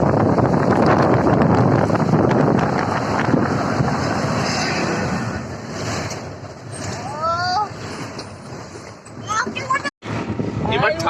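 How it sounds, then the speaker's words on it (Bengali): Cold wind rushing past a moving bus, a steady broadband roar that fades slightly midway, with people talking over it and a brief dropout near the end. "এবার ঠান্ডা হাওয়া আসছে"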